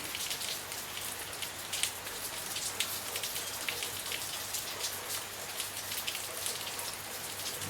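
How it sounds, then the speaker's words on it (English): Heavy rain hammering down steadily on surfaces after two days of downpour, a dense, even hiss with scattered close drops, no voices. "It's been raining for the last 2 days, hammering down."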